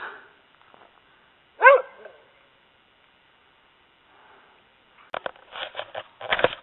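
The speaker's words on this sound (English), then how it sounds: "What are you barking at?" A dog barks beside a smouldering campfire outdoors, one sharp bark followed after a quiet pause by a rapid run of yips and barks close by.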